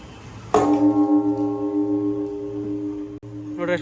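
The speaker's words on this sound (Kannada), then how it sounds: "ಬೆಲ್ ಟವರ್ ಐತೈತೆ ಏನೋ ಬೆಲ್ ಹೊಡೆದಾರ." A temple bell in a bell tower struck once, a clear metallic clang with a long ringing tone that slowly fades, followed by a second strike near the end.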